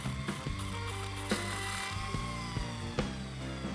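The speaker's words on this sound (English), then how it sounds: "Start sanding it." A power sander works over the body filler on the front of a custom fire truck in a garage, a loud, steady motorized whir with grinding and scraping pulses as the tool moves across the panel.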